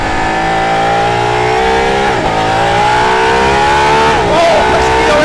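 Hypercar with an electric motor boost pulling hard on a racetrack, its engine note loud and continuous with rising harmonics, briefly dipping around gear changes before climbing again; a voice speaks over it.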